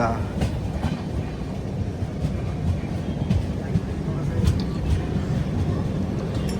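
Rayalaseema Superfast Express train running near Rajampet, a steady broadband rumble of wheels and carriage noise with faint rhythmic clicks, continuous and close throughout, with no clear voices over it.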